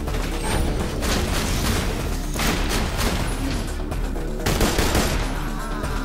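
Gunfire in Borderlands 2 rattles in dense, rapid bursts almost without pause, loud and close over booming game effects, with no talk.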